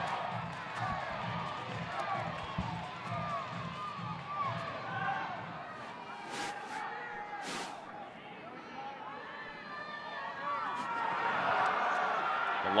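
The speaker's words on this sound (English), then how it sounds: "Crowd getting into it here." Spectators at a Rugby Europe Super Cup 2021 rugby match between Enisei-STM and Lokomotiv Penza make a continuous roar that swells louder toward the end, with a commentator talking over it.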